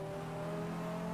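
A steady engine drone holds a constant pitch for a brief moment, a GDA race car in the GTR2 racing video game humming evenly at moderate volume.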